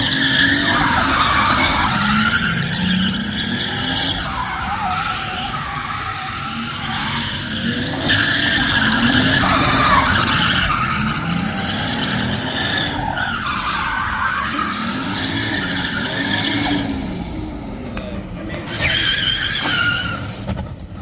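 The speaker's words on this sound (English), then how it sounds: "Tires are popping." Sustained, loud tire squeal from a car sliding and drifting, engine revving underneath, with shrill screeching that rises and falls throughout.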